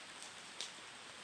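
Steady rain falls outdoors during work in the heat, a soft even hiss of drops with a couple of brief sharper patters standing out.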